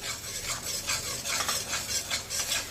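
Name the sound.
gram flour (besan) being roasted in melted ghee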